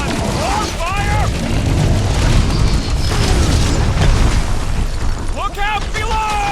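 An explosion rumbles in the Guardians of the Galaxy video game, a loud sustained boom under dense battle noise, with characters' voices talking over it.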